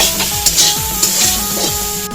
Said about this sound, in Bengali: এবার মা এখন বেগুন ভাজা করছে বেগুন ভাজা হচ্ছে